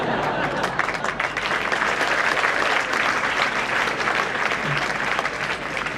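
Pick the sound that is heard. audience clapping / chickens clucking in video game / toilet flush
audience clapping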